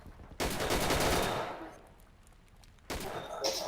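Rifle volley at a military funeral tribute: two sharp, loud volleys cracking out about two and a half seconds apart, each trailing off with outdoor echo.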